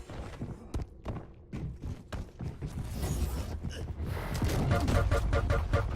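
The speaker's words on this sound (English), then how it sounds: "So much damage from that machine gun" Machine gun and rocket fire in a video game, dense rapid bursts of gunfire and heavy thumps building in intensity, with explosive impacts layered throughout.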